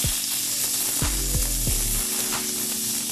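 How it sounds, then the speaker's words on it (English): Beef and shrimp sauté in hot pans in a street-taco kitchen, giving a loud, constant sizzle broken by a few metallic scrapes and clanks of utensils against the pans. "We're gonna saute our beef and shrimp for the"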